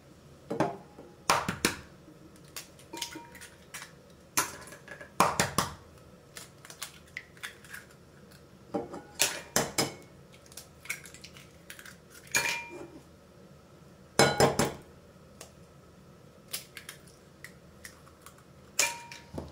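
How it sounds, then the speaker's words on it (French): Eggs beaten in a bowl with a fork or whisk, heard as irregular bursts of quick metallic clinks and taps against the dish, close and fairly crisp, separated by short pauses. "maintenant, je vais venir battre mes œufs"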